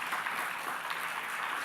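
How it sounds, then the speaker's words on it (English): An audience at a scientific conference session applauds a speaker, a steady wash of many hands clapping at moderate distance with no talking. "if everyone could give Chris a round of applause"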